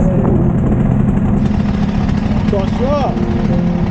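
An Indian Roadmaster motorcycle engine idles with a loud, steady low rumble, held close throughout while a person speaks briefly over it.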